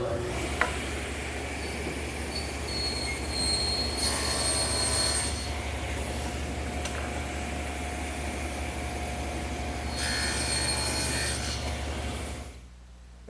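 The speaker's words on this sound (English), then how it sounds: "now I'll make the shoulder cut on each end of all the rails" A table saw cuts shoulder cuts on the ends of wooden table rails, with a steady motor drone and two whining bursts of the blade biting the wood, before the saw winds down at the end.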